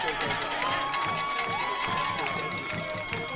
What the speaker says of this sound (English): Well, that'll get the crowd going.